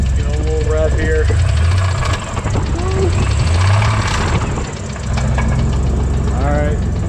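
A rough-running Chevrolet S10 pickup engine idles loudly up close and is revved a couple of times, its note rising and falling over a steady rumble, with a voice briefly audible beneath it.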